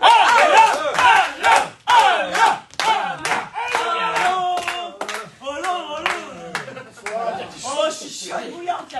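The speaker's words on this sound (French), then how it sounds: "Faites un tonnerre d'applaudissements pour Alain." An audience claps and whoops loudly, with bursts of cheering and shouting voices over rhythmic hand claps that swell and ebb, ending with laughter-like chatter.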